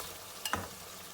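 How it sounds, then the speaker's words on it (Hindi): Minced meat (keema) frying in a pan with ginger-garlic paste, giving a steady low sizzle and a brief stirring scrape in the middle, close and fairly quiet with no talking. "कीमा जो है इसको भूनते हुए 5-6 मिनट हो चुके हैं"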